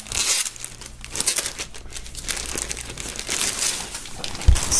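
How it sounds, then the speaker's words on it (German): Plastic shrink-wrap foil is crinkled and torn off a boxed shirt, giving close, continuous rustling and crackling across the whole stretch with a sharper snap near the end. "werden wir das Ganze mal aus der Folie befreien"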